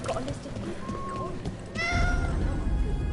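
A cat in the fantasy role-playing game Dragon Age: The Veilguard gives a single clear meow partway through, rising over a murmur of background ambience.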